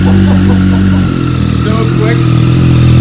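A motorcycle fitted with a new super-lightweight battery fires up and settles into a loud, steady idle, its low engine drone running throughout while a person speaks briefly over it.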